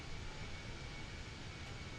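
A CFM-powered airliner in a flight simulator drones steadily in flight, with a continuous jet-engine roar and a faint high tone layered over a low rumble, heard alone and without talk.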